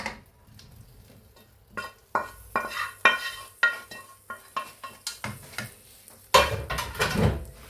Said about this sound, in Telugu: ఇది బాగా కలపాలండి, చికెన్ కూడా వేసుకొని